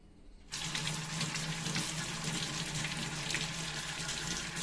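A dishwasher filter washed under a running kitchen tap, the water switching on abruptly and then pouring and splashing steadily into the sink close by.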